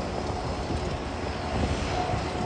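A De Havilland Beaver floatplane lands at Vancouver Harbour; its propeller engine makes a steady, loud broadband drone with no voices over it.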